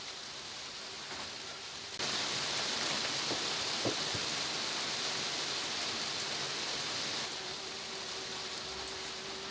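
Steady rain falls on an allotment container garden in the UK, a broad hiss that swells louder after the first two seconds and softens slightly near the end, with a few scattered heavier drops and no voices.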